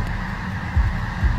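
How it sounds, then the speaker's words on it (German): A flock of geese honks over a low steady background rumble, with two short, loud honks standing out near the end. "das sind irgendwelche Sachen, die durch die Luft gehen, aber das sind alles Vögel"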